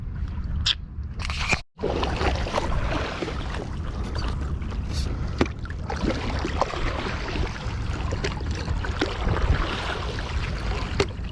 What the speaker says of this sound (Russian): Вот так вот, ребята, мы гребем.